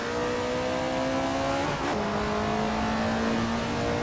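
Alfa Romeo 33 Stradale racing a hot lap in the Assetto Corsa driving game, its engine note droning loud and steady, then dipping sharply on a gear change before climbing again.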